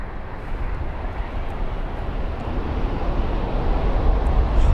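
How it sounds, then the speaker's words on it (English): An Airbus A350 jet lands at London Heathrow, its engines making a broad, loud rumble that builds steadily, with wind buffeting the microphone. "Oh, he's done a really good job of that landing."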